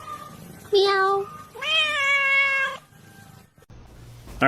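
A pet cat meows twice close by, one short call followed by a longer drawn-out one, then a quiet pause before another sound starts at the end.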